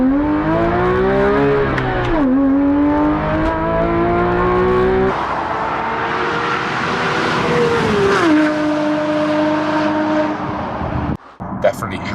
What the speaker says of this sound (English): The Klein Innovation Inconel exhaust that I've got on my 997 GT3